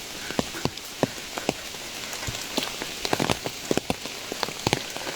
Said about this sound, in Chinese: 听着雨声，